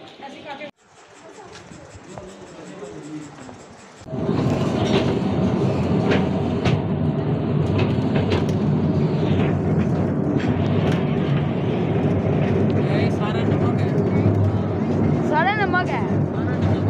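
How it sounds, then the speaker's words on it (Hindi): A train carries riders into a salt mine in the mountains, its rumbling run starting quietly then becoming a loud, steady roar from about four seconds on, with clattering and squealing throughout and people talking over it. "अभी ये ट्रेन हमें लेके जाएगी उधर, सारा पहाड़ों में घुमाएगी"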